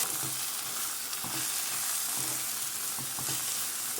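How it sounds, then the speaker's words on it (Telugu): Onions frying in oil in a pan for dondakaya ulli karam, an onion-chilli ivy gourd dish, give a steady close sizzle with occasional soft stirring scrapes throughout, with no voices. "పచ్చివాసన పోయే వరకు, కలర్ చేంజ్ అయ్యే వరకు దీన్ని ఫ్రై చేసుకోవాలి"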